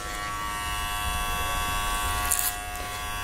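Electric clippers hum steadily and close while shaving the sides of a flattop haircut, a continuous buzz with no talking.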